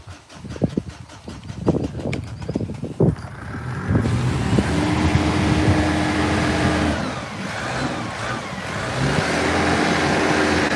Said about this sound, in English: he's trying to start his tractor.